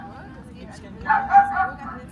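A coin-operated donation box in Germany plays a recorded dog bark: a short burst of yipping barks rises over people talking nearby, then fades back under the voices.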